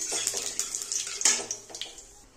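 Bay leaves and white cumin seeds hit hot oil, setting off a quick burst of sharp crackles and spits that gradually settle down over a couple of seconds.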